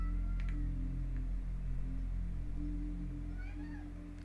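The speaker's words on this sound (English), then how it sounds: "What do you need, kitty cat?" A cat meowing indoors, faint and brief against a steady low hum, with a couple of short soft mews.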